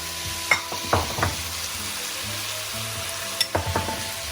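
Pineapple chunks tipped into frying chicken bring a loud, close sizzle, with a few clattering knocks and stirring scrapes near the start and again toward the end, no talking.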